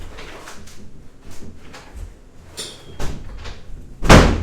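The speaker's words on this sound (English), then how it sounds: "I got to close that door" A room door is closed with a few soft handling knocks and clicks, then one louder thud near the end as it shuts, close and indoors, with no speech.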